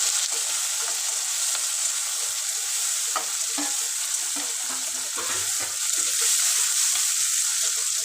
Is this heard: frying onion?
yes